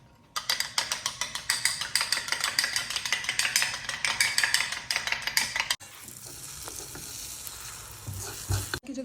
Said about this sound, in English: We are making omelette with bread, butter and jam.